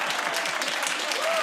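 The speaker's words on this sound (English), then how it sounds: "Come on, clap for that" A studio audience on a British comedy panel show claps steadily and densely, a short continuous burst of applause heard clearly throughout.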